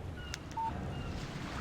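A phone text message alert sounds in the video game Alan Wake: one short electronic beep over a soft windy outdoor ambience.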